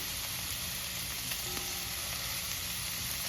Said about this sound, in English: while this taking its time and frying up at the bottom here